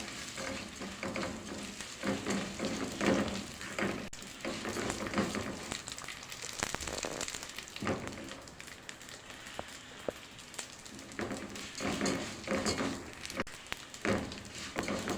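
Vermicelli noodles sizzle and fry in hot ghee while being stirred in a pan, a steady crackling hiss with scraping stir strokes and brief louder bursts throughout.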